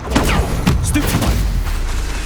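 A Bombarda blasting spell explodes in Hogwarts Legacy on PS5 amid other combat spells, a loud, busy run of booming blasts and sharp whooshing magic effects close up.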